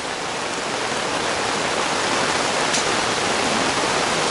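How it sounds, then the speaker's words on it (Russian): Heavy rain pours steadily at a riverside fishing spot in Germany, a loud, dense, unbroken hiss with no voices. "Какой влупил дождяра."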